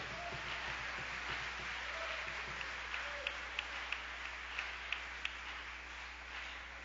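A congregation clapping for the King of Glory during an evangelical night vigil: a faint, steady wash of many hands heard from a distance under a constant hum, with a few slightly sharper claps standing out partway through.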